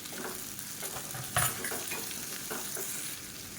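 Two medium chopped tomatoes sauté with mint and coriander in a pan. A steady close sizzle runs under occasional stirring scrapes, with one sharper clink of the utensil against the pan, and no talking.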